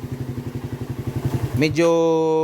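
A motorcycle engine fitted with a 28mm Keihin carburetor, running somewhat noisily, idles with a rhythmic putter, then revs up into a steady, higher-pitched drone, close by.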